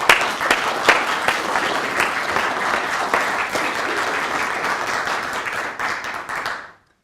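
A lecture audience applauds to welcome the speaker to the podium, with dense sustained clapping from many hands that carries on steadily before fading out at the end.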